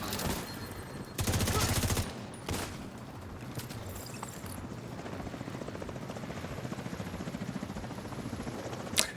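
In a shooter video game, a light machine gun fires a long, rapid, even burst against enemy helicopters, then further short rattling bursts follow beneath the steady drone of rotors, loud and close.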